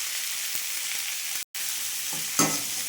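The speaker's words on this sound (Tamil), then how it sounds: "நல்லா வதக்கிக்கலாம்." Turmeric powder sautéing in a pan for okra buttermilk curry gives a steady, close frying hiss with a brief dropout midway and a short scrape of stirring near the end.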